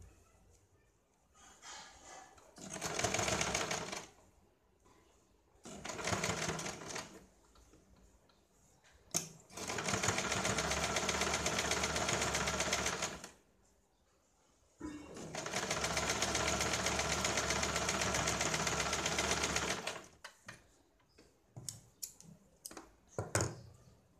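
A sewing machine stitches along the edge of a katori blouse hook strip in several loud runs of varying length, separated by quiet pauses and light clicks of handling.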